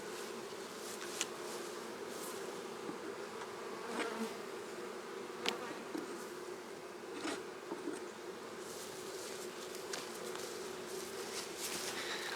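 Honeybees buzz steadily around an open hive during a colony split, a dense, continuous hum close by with no voices over it.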